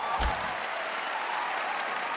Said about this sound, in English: Yeah, all the shills are cheering for it.